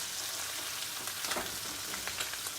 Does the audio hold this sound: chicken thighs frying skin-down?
yes